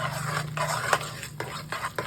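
A spoon stirs cream in a bowl to churn it into butter by hand, giving soft repeated swishing and light scraping strokes in an even rhythm, close and moderately quiet, with a low steady hum underneath.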